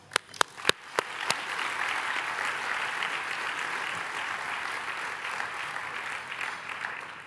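Audience applause welcoming milestone alumni at a Radcliffe Day celebration: a few sharp early claps swell into steady, sustained clapping from a large crowd, holding evenly to the end.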